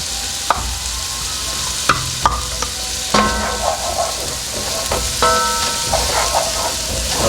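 Garlic ginger paste and chopped celery sauté in a pot, a loud steady sizzle punctuated by sharp clinks and scrapes of a spoon against the metal at irregular intervals.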